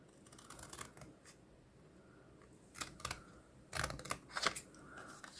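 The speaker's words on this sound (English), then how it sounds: "I find a long bladed pair of scissors works the best here" Long-bladed scissors snipping through paper card while making a shutter card, a few quiet crisp cuts in separate short bursts with soft handling noise between them.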